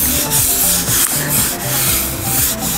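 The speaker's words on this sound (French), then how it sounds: "Alors une fois qu'on a bien gratté la coque, il faut la poncer." Hand sanding of a boat hull after scraping, with close, repetitive back-and-forth rubbing strokes in a steady rhythm, loud and with no talking.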